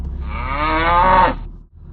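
A cow moos loud and close, one long drawn-out call that rises and then fades, from cattle roaming freely in farm fields in Odisha.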